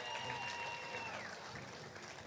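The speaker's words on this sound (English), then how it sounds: "Big round of applause, guys." A crowd applauds anglers at a Sunday fishing tournament weigh-in in Kingston, clapping steadily at a moderate distance while a voice carries over it and a high tone sweeps through the background.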